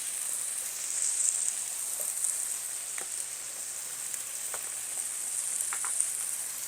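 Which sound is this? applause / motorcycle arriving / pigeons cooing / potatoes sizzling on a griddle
potatoes sizzling on a griddle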